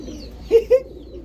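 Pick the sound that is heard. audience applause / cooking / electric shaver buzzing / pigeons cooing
pigeons cooing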